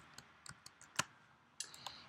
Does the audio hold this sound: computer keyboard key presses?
yes